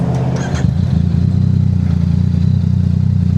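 Yamaha FZ09 motorcycle engine catching and settling into a steady, loud idle after a brief starter clatter, close by with no talking.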